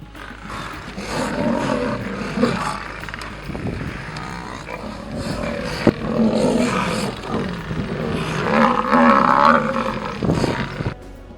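Lions in the African savannah roar and growl in deep, rumbling bursts that swell and overlap, loud and sustained, with a louder surge near the end and no talking.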